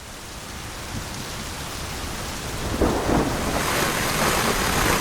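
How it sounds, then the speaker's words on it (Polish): Heavy thunderstorm near mountain fortress ruins in Romania, with dense rain roaring steadily and a low thunder rumble building louder toward the end, with no voices. "Ej, jest jakaś turbo hardkorowa burza w ogóle."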